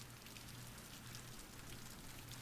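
Winter rain in a visual novel video game, a steady, soft hiss of falling rain with a faint low hum beneath, continuous and even throughout with no voices.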